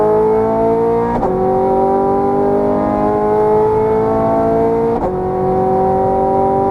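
A Ferrari 430 Scuderia accelerates hard on a Las Vegas race track, its loud, close engine note climbing steadily through the revs with two brief dips at gear changes.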